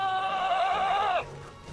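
A sheep-like creature from the Skylanders video game bleats once in a long, wavering, nasal cry that is loud and close. It cuts off abruptly into quiet.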